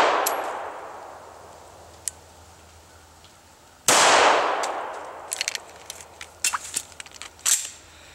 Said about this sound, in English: So as I'm firing my shot, I let the trigger out until I hear and feel the click.